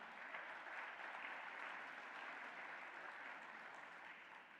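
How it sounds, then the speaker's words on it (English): Audience applause at an award speech gets a dinner crowd clapping together, a steady, even wash of many hands that holds through the whole stretch and fades slightly at the end. "I'm glad you applauded"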